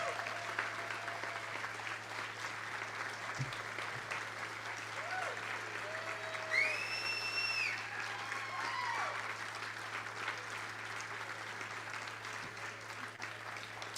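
A banquet audience at a chamber of commerce evening event claps after a check presentation to the scuba diving industry, a sustained wash of applause at moderate distance, with a few brief whistles and cheers rising above it.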